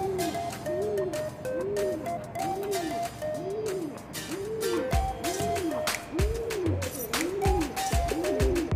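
Breeding pigeons at a nest bowl lined with natural sea sand coo over and over in a steady rhythm of rising and falling calls, close and clear, with some handling noise in the second half.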